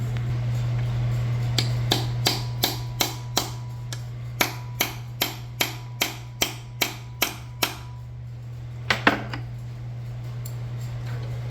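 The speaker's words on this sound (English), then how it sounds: "I got this one drilled out, so let's beat an Allen in there" Sharp metallic hammer blows drive an Allen key into a drilled-out head bolt on a 1998 Porsche Boxster 2.5 engine, a steady run of about fifteen evenly spaced strikes. A short pause follows, then a final double hit over a constant low hum.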